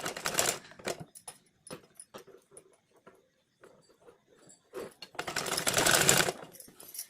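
Sewing machine stitching the folded edge of a chudidar top, with short bursts of stitching separated by pauses and a longer, louder run near the end, close by.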